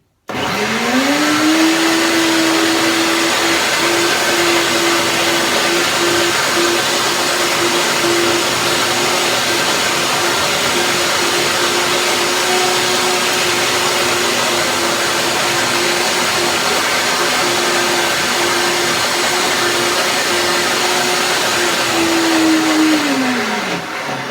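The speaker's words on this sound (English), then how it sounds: "That's why it's good to have a power blender, yeah, to get it really smooth." A high-powered blender runs continuously, blending cashews, dates and bananas with cacao butter and liquid. Its steady loud motor whine spins up at the start and winds down at the end, with no one talking.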